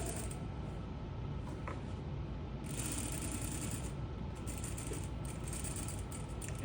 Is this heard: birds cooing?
no